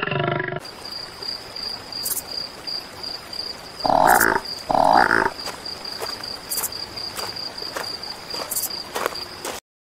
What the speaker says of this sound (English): sounds like the bugs are making music.